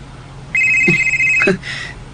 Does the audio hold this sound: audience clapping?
no